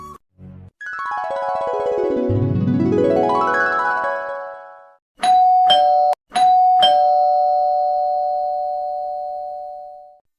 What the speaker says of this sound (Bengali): সকাল সকাল কলিং বেল চাপ দিচ্ছে আম্মু।